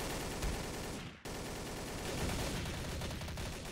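Dense, continuous gunfire fills a round of Trouble in Terrorist Town, shots blurring into a steady roar with one abrupt cut midway, no voices.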